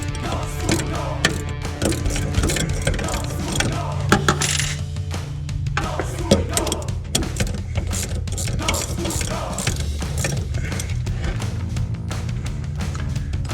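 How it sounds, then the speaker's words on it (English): Metallic clicks and scrapes of an open-end wrench loosening the nut on a BMW E90 sedan's rear shock shaft while a small open-end wrench holds the shaft, with irregular close clinks of tool on steel throughout. "open-end wrench to remove the nut, and then we're going to hold the shaft in place with a small open-end wrench to keep it from spinning"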